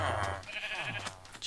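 A Minecraft sheep bleats twice, close and clear, with a short pause between the two calls.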